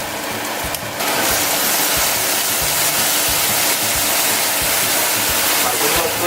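Soy sauce goes into a pan of sizzling pork stir fry, bringing a loud, rushing hiss that swells after a brief quieter moment and holds steady, with a voice speaking faintly.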